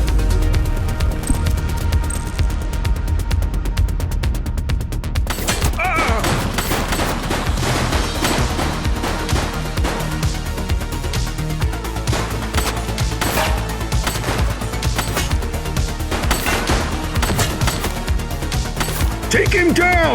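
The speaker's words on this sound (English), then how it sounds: "She's shooting!" Continuous heavy gunfire in the video game The Precinct, dense rapid bursts layered over a loud game soundtrack, with sharper cracks and impacts throughout the scene.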